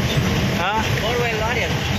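A borewell drilling lorry's engine rumbles in a steady, unbroken drone, with a voice talking over it throughout.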